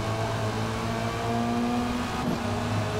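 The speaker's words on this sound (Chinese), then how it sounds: "一脚油门继续回归赛道" A Lynk & Co 03 TCR touring race car in the Forza Motorsport game accelerates back onto the track after a scrape, its engine a dense, continuous drone with a slowly rising tone and no voices.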